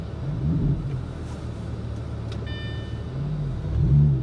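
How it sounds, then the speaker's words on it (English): Lamborghini Gallardo with a VF Engineering TCU tune driving at low speed, a steady engine rumble with rising revs near the start and end and a brief electronic chime in the cabin midway. "Okay, driving the Gallardo, gonna see its clamping abilities"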